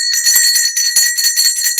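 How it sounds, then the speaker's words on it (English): A small ritual bell rings repeatedly and brightly in rapid, shimmering strokes, loud and close, with no voices over it. "started with the bell and we're going to end with the bell"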